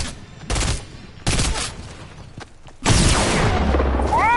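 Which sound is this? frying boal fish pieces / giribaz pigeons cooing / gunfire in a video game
gunfire in a video game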